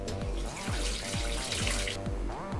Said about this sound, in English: Wash your hands for 20 seconds when using soap and water